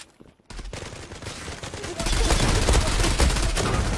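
Kriss Vector gunfire in a shooter game: after a brief quiet moment, rapid automatic shots and bursts start up and grow louder and denser toward the end.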